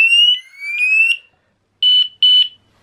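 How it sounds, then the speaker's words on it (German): A loud Homematic IP smart home alarm sounds alone: a shrill rising siren tone, a pause of silence, then two sharp, identical high-pitched beeps. "Geht der Alarm ein"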